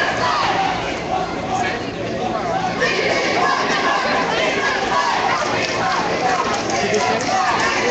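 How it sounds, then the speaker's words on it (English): Hundreds of May Day protesters marching through downtown Montreal, a dense continuous wash of crowd voices, shouting and footsteps close by, steady and loud throughout. "we still have hundreds of people marching in downtown Montreal on this May Day"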